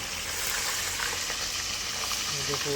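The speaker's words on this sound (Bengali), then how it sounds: "এখন তেলটা গরম করলাম করে এখন এর ভিতরে মাছটা ছেড়ে দিলাম" Fish sizzling in hot oil in a home kitchen, a dense continuous crackle and hiss that stays loud and even throughout, with faint clinks near the end.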